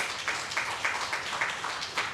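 Applause from the audience at a Gambling Harm Awareness Week launch event, a steady patter of many hands clapping at moderate volume for a couple of seconds, with no talking over it.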